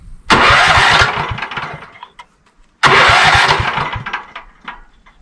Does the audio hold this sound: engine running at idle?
yes